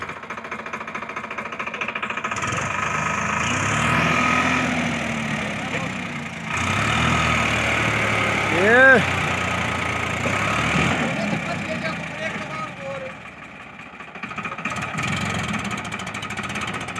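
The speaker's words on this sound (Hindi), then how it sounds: "ये देखिए भाई कितने RPM ड्रॉप कर रहा है ट्रैक्टर" A heavy tractor engine, a Farmtrac 60 T20 Euro 50, rumbles continuously, its pitch sagging and recovering under strain in a pulling contest, with loud crowd voices talking and shouting throughout.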